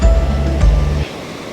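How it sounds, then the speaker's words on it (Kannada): Strong water flow at Abhigandhi waterfall, a steady loud rushing roar close by that cuts off abruptly after about a second, leaving a faint hiss. "ಜೋರಾಗಿ ಹರಿತಾ ಇದೆ ನೀರು."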